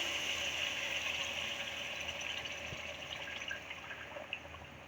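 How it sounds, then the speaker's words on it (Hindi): Yakhni broth is poured steadily into a pot of fried mutton, a continuous splashing gush with a slight liquid trickle that eases off toward the end, close and moderately loud with no talk. "अब ये यखनी जो है हम इसमें शामिल करेंगे।"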